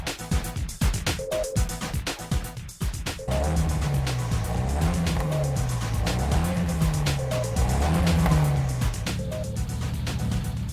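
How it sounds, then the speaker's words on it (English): Nissan S15 Sylvia rally car modified by a former WRC hand, its exhaust note rising and falling in repeated revving sweeps with brief tire noise, loud and close after a short stretch of busier mechanical noise. "listen to the tunes of this exhaust"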